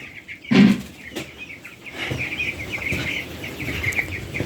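Three-day-old chicks in a brooder with automatic water cups peep constantly in high, rapid chirps, a busy close chorus with a few louder thumps early on.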